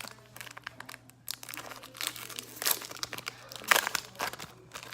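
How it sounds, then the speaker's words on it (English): Foil wrapper of a Pokemon trading card booster pack being torn open and crinkled, a run of close, sharp crackling and ripping bursts that swell and fade over several seconds, with no talk. "Let's open the last pack of Pokemon cards."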